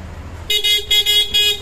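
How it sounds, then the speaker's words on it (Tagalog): A waterproof Bosch Europa motorcycle horn with selector honks in three or four short, loud, bright blasts over a quiet background. "yung busina niya, Bosch Europa with selector, yan ang pinakamatibay namin busina kasi waterproof talaga"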